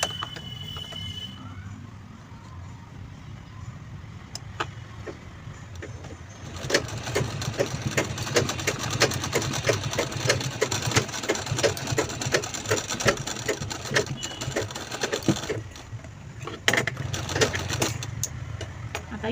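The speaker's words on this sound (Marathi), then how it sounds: "तर याच्यावरती आपल्याला शिलाई लावून घ्यायची आहे दोन्ही साईडला." Sewing machine stitching along both sides of a small handmade purse, a steady rapid needle rhythm running for long stretches after a quiet start, with brief pauses between runs.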